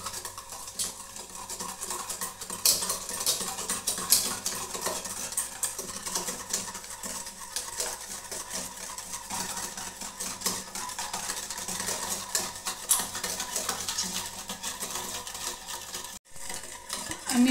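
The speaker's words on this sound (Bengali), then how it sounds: "এই সব কিছু একসঙ্গে আমি খুব ভালো করে ফেটিয়ে নেব" Ghee and baking soda whisked together in a bowl for crisp semolina biscuits, a steady stream of fast scraping and clinking strokes against the bowl that runs for many seconds without talk.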